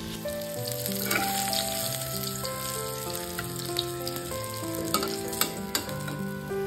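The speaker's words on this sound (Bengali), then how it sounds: "মাছগুলো নুন হলুদ মাখিয়ে দিয়ে ভালো করে লাল লাল করে ভেজে তুলে নেব।" Salt-and-turmeric-coated fish frying in oil in a wok, a continuous close sizzle and crackle with occasional spatula stirs, over a faint steady tonal hum.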